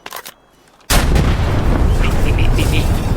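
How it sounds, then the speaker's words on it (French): A sudden, loud blast of explosions in the Roblox game Guerre de l'Est 2.5 bursts in after a brief quiet, then sustained rumbling and crackling debris fill the rest, with faint high beeps. "Ouah, mais l'explosion elle est trop forte"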